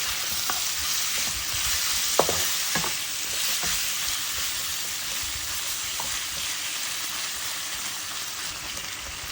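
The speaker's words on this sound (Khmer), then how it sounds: "រួចយើងឆាផ្អកជាមួយនឹងសាច់ជ្រូកឲ្យចូលគ្នាឲ្យចូលសព្វគ្នា" Fermented fish and three-layer pork belly sizzle steadily in a hot pan, with a constant frying hiss and a few sharp stirring clinks and scrapes, close and clear with no talking.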